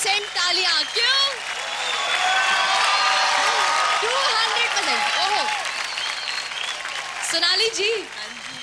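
Studio audience applause on a Hindi TV talent show, a dense sustained roar of clapping with cheers filling the room, while a host keeps talking over it and briefly exclaims near the start and end.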